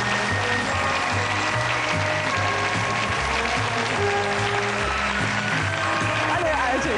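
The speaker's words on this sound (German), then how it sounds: "Bleiben Sie einen kleinen Augenblick mit mir hier stehen und genießen Sie den Applaus." A TV studio audience applauds steadily and warmly throughout, with dense continuous clapping, while music plays and a presenter speaks over it.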